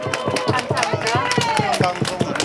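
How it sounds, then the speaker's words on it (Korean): A crowd at a press conference gives a representative a round of rhythmic, close, fairly loud clapping. The claps come in steady repeated beats while a voice talks or calls out over them. "우리 대표님 다시 한번 박수 부탁드리겠습니다."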